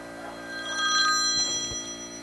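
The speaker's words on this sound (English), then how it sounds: "Phone's ringing." A telephone rings with a bright electronic trill, steady and fairly loud, with no one talking.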